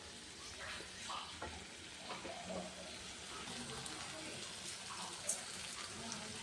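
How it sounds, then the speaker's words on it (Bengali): Bengali spice masala frying in oil and being stirred, a faint continuous sizzle with soft scraping strokes and a small clink, heard close but quiet with no talk. "এরকম মশলাটা কষানো হয়ে এসছে"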